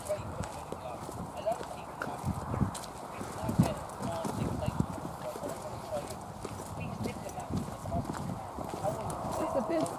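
A horse at the Irish National Stud walks with soft, irregular hoof clip-clops over several seconds, with people talking nearby throughout.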